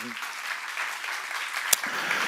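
A church congregation applauds during a seminar sermon, steady broadband clapping from a crowd at moderate level, fairly distant and continuous for the whole stretch, with a brief voice at the start.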